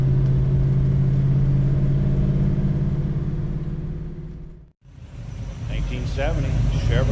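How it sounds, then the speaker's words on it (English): The blower motor of a 1970 Chevrolet Nova runs with a loud, steady whirring hum that suddenly cuts out, followed by a lower rumble with a voice briefly heard. "Blower motor works."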